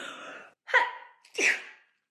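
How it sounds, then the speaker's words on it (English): A person sneezes with a sharp burst after a drawn-in breath, followed by a second quick explosive sneeze, close and clear. "I'm going to sneeze"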